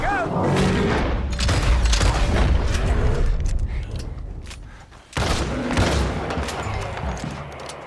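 Gunfire and heavy booms from Red Dead Redemption 2 rumble loudly and continuously, dipping briefly before a sharp renewed burst, with shouting voices mixed into the chaotic in-game fight.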